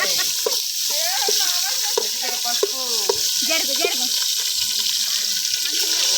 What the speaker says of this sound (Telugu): ఎల్లిగడ్డ టమాటా పేస్ట్ ఓకే కలుపుకొని